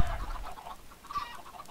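A short burst of Minecraft chicken clucking, a few soft clucks close by, ending with a brief higher note.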